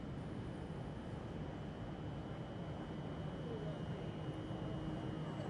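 British train in the video game Train Sim Classic, heard as a continuous, even, low rumble with a faint high whine on top, steady and moderately quiet throughout with no distinct events.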